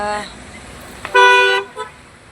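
A car horn honks close by in one sustained blast of about half a second, followed by a brief shorter toot, with a voice talking over traffic just before it.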